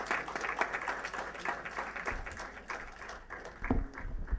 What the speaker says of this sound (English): I request you all to give a huge round of applause.